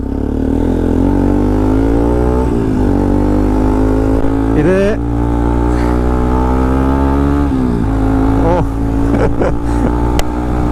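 An RS200 motorcycle fitted with an Akrapovic exhaust idles loudly up close with a deep, raspy drone, then is blipped into rising revs several times, while someone speaks over it.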